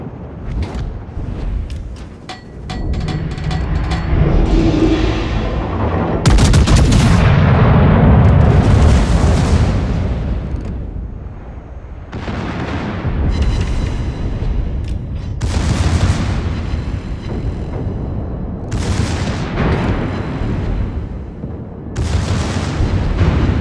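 Heavy torpedo explosions strike a submarine in a naval video game. Deep, loud booms roll into long rumbling blasts, and several detonations follow one after another over a continuous low roar.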